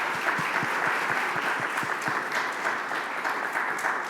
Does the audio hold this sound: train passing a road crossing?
no